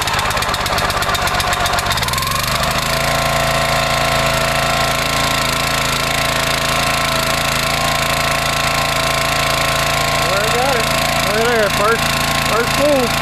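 Kohler 6.5 horsepower 196 cc small gas engine running steadily on a Countyline 25-ton wood splitter, a loud continuous close-up drone that catches after a brief start, with faint talk in the background.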